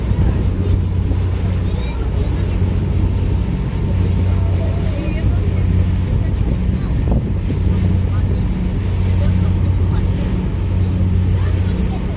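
Tour boat cruising on San Francisco Bay, with a constant loud engine drone, wind rushing over the microphone and water wash throughout, unbroken and steady.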